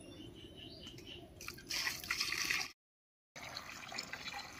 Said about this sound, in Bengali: জলটা গরম হয়ে গেছে, এবারে মাংসের উপরে ঢেলে দেব।